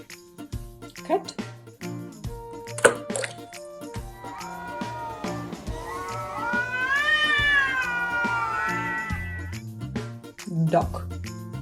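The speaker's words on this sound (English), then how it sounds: "Cat." A cat meows in a drawn-out, wavering caterwaul, loud and close, set against a bouncy children's musical backing with plinking, drip-like notes.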